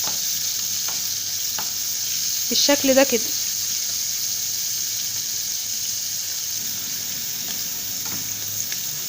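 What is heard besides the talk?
Alexandrian-style liver sizzling as it fries in hot oil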